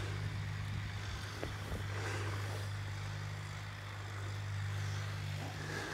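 A tractor-style skid steer engine runs nearby outdoors by an abandoned schoolhouse, a steady low droning hum with constant tonal rumble throughout, no talk.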